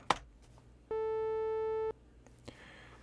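A steady electronic 440 Hz oscillator tone passed through a 440 Hz filter in ChucK sounds for about one second, an even, dark, sustained pitch that starts and stops abruptly amid faint clicks.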